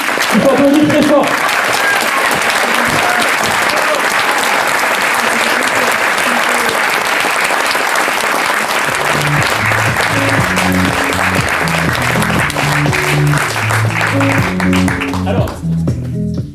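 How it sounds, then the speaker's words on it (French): Loud, sustained applause from an audience at a public meeting for the presentation of an electoral list, continuous dense clapping filling the whole stretch, with voices and some music-like tones emerging in the latter half. "Il faut applaudir très fort."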